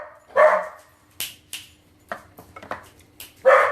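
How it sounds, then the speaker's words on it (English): A dog barks indoors in a home kitchen, a few sharp close barks spaced across the moment, mixed with clinks of a spoon and dishes. "Working from home is great until your dog starts barking"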